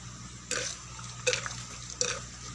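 Water trickling down through gravel around planted okra comes as three short, splashy bursts in quick succession over a low background hum.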